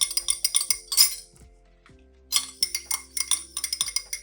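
Clinking and tapping of a utensil against a container while stirring green tea face toner ingredients with distilled water, in quick irregular bursts with a short pause midway, close and fairly clear.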